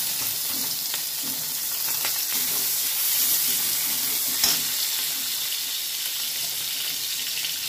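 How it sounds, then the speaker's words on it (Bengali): Sliced onions fry in hot oil with whole cumin seeds, dried red chilies and bay leaf, giving a loud, steady, close-up hiss and crackle with a few faint stirring scrapes. "এবার পেঁয়াজগুলো আমি এর মধ্যে ভেজে নেব।"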